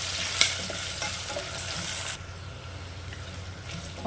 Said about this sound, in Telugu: కరివేపాకు కూడా యాడ్ చేసి ఇప్పుడు ఒకసారి కలుపుకోవాలి